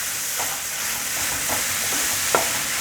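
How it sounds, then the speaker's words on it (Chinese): Tofu skin stir-fried quickly with soy sauce and white pepper in a pan of oil, giving a steady close sizzle with a few short scraping stirs of the spatula, no voices. "快速翻炒。"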